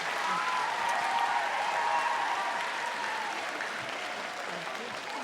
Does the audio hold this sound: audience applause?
yes